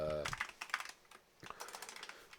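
Computer keyboard being typed on to enter a script name, a quick run of close, crisp key clicks in uneven bursts, with a brief voice at the very start.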